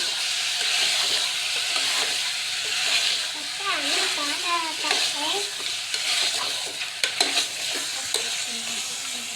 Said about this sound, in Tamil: இந்த பேஸ்ட்டோட நல்லா கிளறிக்கோங்க